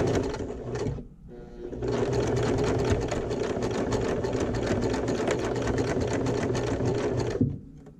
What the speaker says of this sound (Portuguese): Essa costura de fixação é com retrocesso no início.